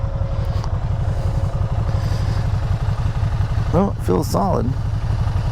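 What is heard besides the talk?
Can-Am Spyder RT-S foot pegs rattling while idling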